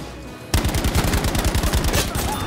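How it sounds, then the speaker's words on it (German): Rapid automatic gunfire in Battlefield V, a dense rhythmic burst of close, loud shots that starts abruptly after a short quiet lead-in and continues steadily to the end. "Wieder einen Schädelschuss"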